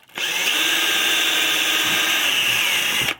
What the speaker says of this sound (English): So pre-drill the holes.